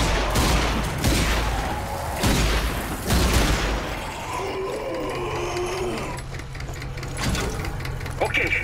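Zombie Army 4 gunfire at zombies, several rapid bursts of shots in the first half, then quieter mechanical game sounds, with a voice speaking over the action.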